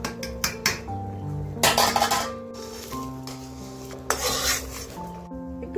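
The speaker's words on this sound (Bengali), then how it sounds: "এবারে আমি চালটা দিয়ে দেব।" Gobindobhog rice goes into a pot of half-boiled dal, with clattering pot and utensil knocks, a rushing pour of grains and stirring scrapes, all over a steady hum and a faint simmer.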